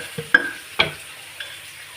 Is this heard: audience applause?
no